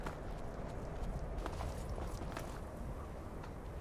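Horse hooves clip-clopping in Skyrim, a steady, muffled trotting rhythm under continuous game ambience and background rumble.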